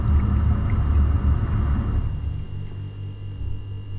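A Vestfrost VFTD8HT31W heat pump clothes dryer running in quiet mode gives off a low, steady hum and rumble nearby, which fades to a faint background drone about halfway through.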